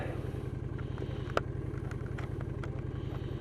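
Honda VT750 Shadow Spirit motorcycle cruising along a scenic rural road, its engine giving a steady low pulsing drone throughout with a brief sharp clack partway through.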